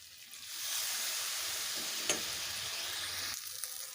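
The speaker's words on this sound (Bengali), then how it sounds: "ভেজে রাখা আলু আলুগুলোকেও কিছুক্ষণ কষে নেব" Fried potatoes sautéing with spices in a pan, giving a steady broadband sizzle throughout, with a brief sharper crackle midway and a slight drop near the end.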